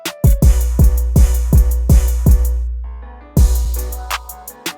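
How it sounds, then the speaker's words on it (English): A hip-hop trap beat, built in FL Studio, plays repeating punchy kick drums over a booming sustained 808 bass, then ends with a quick triple kick hit, loud and free of talk. "I also added like this little triple like kick thing at the end"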